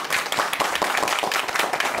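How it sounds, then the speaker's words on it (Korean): Steady audience applause from a lecture crowd, many hands clapping continuously at a moderate, warm level for the whole stretch with no talk over it. "여러분들이 그 치는 박수 소리가 그렇게 크지는 않은데 굉장히 이게 정감이 있다."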